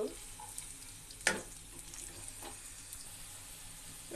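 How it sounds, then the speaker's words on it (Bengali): Onions browning in hot oil for a mixed five-vegetable bhaji give a steady soft sizzle, with one sharp clatter of stirring partway through and a few faint ticks. "এবার আমি একটু একটা বাদামি কালার করে ভেজে নিব বাদামি কালার হওয়া অব্দি একটু অপেক্ষা করব"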